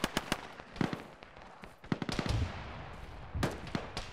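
Fragmentation grenades and gunfire in the military shooter game Arma, heard as a rapid scatter of sharp, loud bangs and cracks in uneven bursts over a few seconds.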